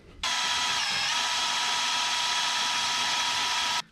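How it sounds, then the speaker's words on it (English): A power drill bores out parts on an old truck, one steady high whine starting abruptly and running without break for over three seconds before cutting off, loud and close with no talk. "they knew one day someone was going to have to drill these out"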